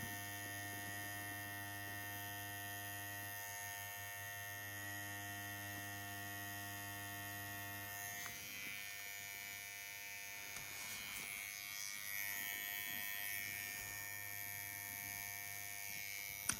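A Dragonhawk Year of Dragon tattoo machine runs with a continuous buzzing drone over a steady electrical hum, and its tone shifts partway through as it keeps going.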